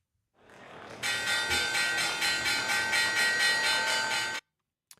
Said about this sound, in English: The bell has rang.